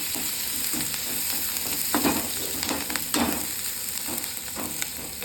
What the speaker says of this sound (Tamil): இதோட இந்த 4 பச்சை மிளகா போட்டுருவோம்